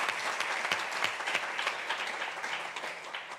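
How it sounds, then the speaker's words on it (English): Steady applause from a lecture audience honouring a speaker, a dense, continuous patter of many hands clapping at moderate loudness with no voices over it. "let me extend my appreciation and request you to give her another round of applause"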